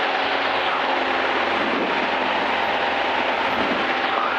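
The engine of a Zenith CH 750 Cruzer light aircraft drones steadily and loudly, heard from inside the cockpit as a constant propeller hum with a broad rushing noise around it.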